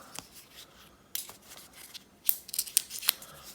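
Plastic wrap is peeled and torn off a pair of Apple AirPods, giving a few sharp crinkling rustles that grow busier and louder toward the end.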